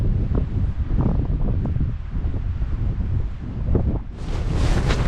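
Strong wind gusts across a winter mountain ridge, a loud rough roar buffeting the microphone in surges, swelling into a sharper hissing blast near the end, with no voices.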